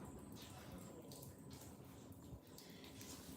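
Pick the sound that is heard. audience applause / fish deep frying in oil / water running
water running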